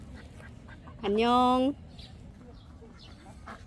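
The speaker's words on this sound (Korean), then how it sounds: "오리를 만났어요." A duck at a pond in a rose garden at Changwon National University gives one drawn-out, nasal quack, close and clear over outdoor background murmur, while people talk softly nearby.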